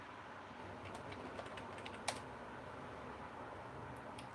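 Soft, quick clicks of typing on a computer keyboard, faint against a steady background hiss, with one sharper keystroke standing out partway through.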